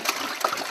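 Muddy, dirty water running from a household faucet, a brief, soft trickle and splash with no voices.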